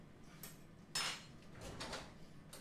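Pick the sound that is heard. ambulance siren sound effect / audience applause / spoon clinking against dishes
spoon clinking against dishes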